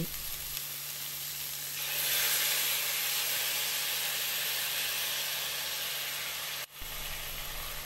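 Chili-paste sauce for stir-fried clams hits a hot pan and sizzles loudly and steadily, a continuous bright hiss that swells after a moment and carries on unbroken.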